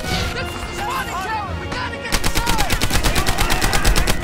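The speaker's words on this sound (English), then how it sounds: "the gunfire and explosions are a little underwhelming in Airborne." Gunfire and explosions from the World War II shooter Medal of Honor Airborne: busy battle noise at first, then rapid, sharp automatic bursts hammering out in a fast, even rhythm, loud and close.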